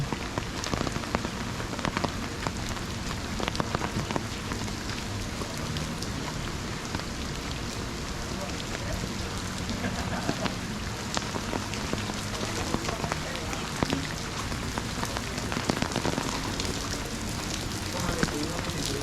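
Steady rain falls at The Haven hotel in Khao Lak, a dense continuous patter of drops on surfaces with occasional louder splashes, and voices are heard now and then.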